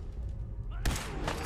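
A single gunshot in the video game Fallout 4, one sudden loud blast with a decaying tail under low background game sound.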